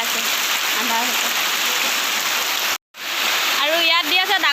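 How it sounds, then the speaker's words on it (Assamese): Heavy rain pours down in an even, loud hiss at dusk, broken by a brief gap, with a voice talking over it. "ইয়াত দি আছে ডাঙৰ বৰষুণ"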